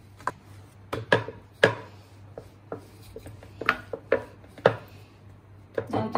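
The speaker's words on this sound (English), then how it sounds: "And then roll it with the rolling pin" A rolling pin working pizza dough for a pan margarita on a floured counter, giving a series of irregular soft knocks and rubbing thumps against the board, close and fairly quiet over a low steady hum.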